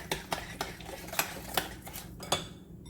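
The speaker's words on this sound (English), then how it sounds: "Mix this together." Ingredients mixed with a spoon in a bowl for stuffed shells with salt, a series of light clinks and scrapes against the bowl at an uneven rhythm, close and fairly quiet.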